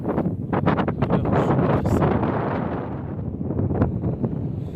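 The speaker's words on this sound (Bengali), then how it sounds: "প্রচণ্ড হাওয়া হচ্ছে" Strong, steady wind roars across a hilltop in Rajasthan, a continuous loud buffeting rush over the microphone with no pauses and no speech.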